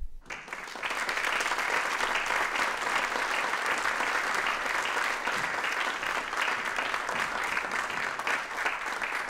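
A seated audience breaks into sustained, steady applause welcoming photographer Danny Lyon, a dense, even clapping that holds for several seconds without pause.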